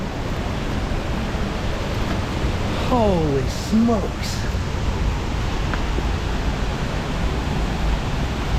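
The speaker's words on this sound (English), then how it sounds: "what a magnificent waterfall" Cincinnati Freedom Falls on Little Cow Creek roars loudly and continuously nearby, a thick wash of falling water as a man briefly exclaims over it.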